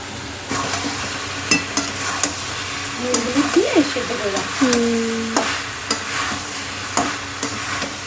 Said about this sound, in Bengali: একটু কষিয়ে নেবে এবার যে সেদ্ধ করে রাখা এঁচড়